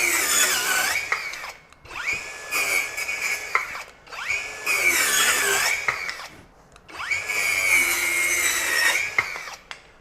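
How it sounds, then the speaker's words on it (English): A Masterforce 20V brushless 4-1/2-inch compact circular saw whines loudly through sheet material in three long cutting passes, each rising to a high buzz before easing off between cuts. "The brushless motor definitely pushes through the sheet material with not much problem."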